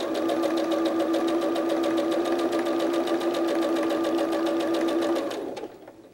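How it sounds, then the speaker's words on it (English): A sewing machine runs steadily at close range stitching fabric pieces of a soft toy, a fast even whirring rattle lasting about five seconds before winding down and stopping. "Then you're going to sew around the curve to connect them."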